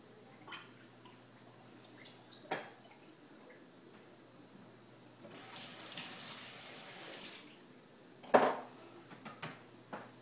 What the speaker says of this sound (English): now I'm washing off the tip of this thermometer in the vinegar water.